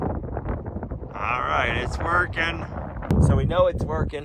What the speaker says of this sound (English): Sorry for the wind, it's pretty windy today.